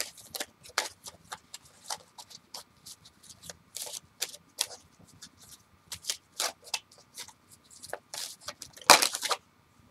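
Quick crisp riffling of tarot cards being shuffled, repeated in short bursts with brief pauses, close and fairly soft, ending in a sharper flurry.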